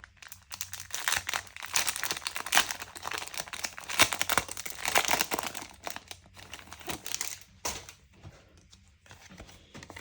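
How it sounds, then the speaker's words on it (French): A small paper envelope is handled close up, giving soft, irregular crinkling and rustling with light taps, fairly quiet throughout. "on prend une petite enveloppe"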